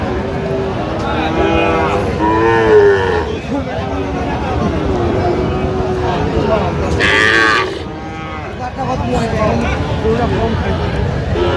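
Sahiwal cattle low loudly and repeatedly at a busy livestock market, long drawn-out moos rising over constant crowd chatter and bargaining voices nearby.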